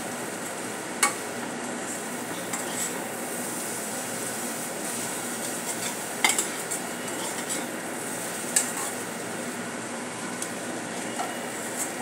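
Egg bhurji with chopped coriander is stirred in a hot pan, a steady close sizzle running throughout, broken by a few sharp clinks of the spoon against the metal, with no talking.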